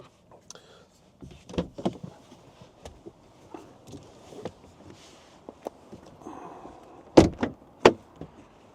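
Rear door of a BMW i5 electric saloon being opened, a few scattered clicks and light thuds of the handle and latch, fairly close and quiet, with sharper knocks toward the end.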